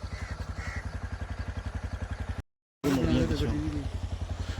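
A motorcycle engine chugs with a steady, rapid pulse as it struggles across a breached, waterlogged road, cutting out for a moment before returning louder while a voice talks over it.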